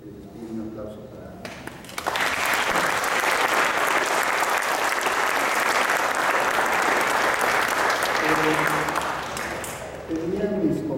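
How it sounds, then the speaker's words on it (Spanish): A crowd applauds at a book presentation in Oaxaca, a steady, full burst of clapping lasting several seconds, with a voice speaking briefly before it starts and again as it tapers off. "Les pido un aplauso para."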